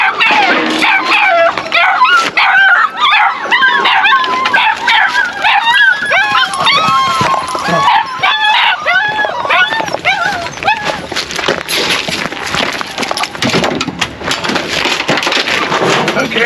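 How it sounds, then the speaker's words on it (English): A female coonhound on a coon hunt bays and yips over and over in an excited, loud, continuous chorus, the rhythmic howls close by, with people talking now and then underneath. "She sounds like a male dog."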